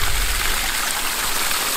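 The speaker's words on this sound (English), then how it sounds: "So I can hear the water." River water rushes steadily into the intake pipe of a homemade auto pump, a continuous broadband gush close by, with no voices.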